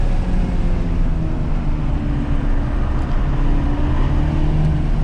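A 2021 Mini John Cooper Works GP engine drones steadily and loud from inside the car on a race track in manual mode, a continuous rumble with no clearly marked gear changes and no talk.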